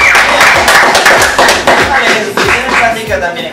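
A small group clapping in a room during a casual interview with a music group, loud, close and uneven, with voices over it.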